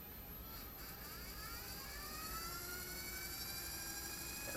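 A WLtoys V911S four-channel RC helicopter hovers near idle throttle, giving a steady, faint whine with high rotor and motor tones that rise slightly, alone without talk.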